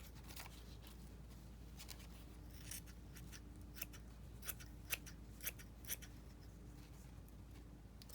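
Scissors snipping paper for a junk journal, a run of quick crisp cuts that grows sharper and more forceful midway, heard close against a faint steady background hum.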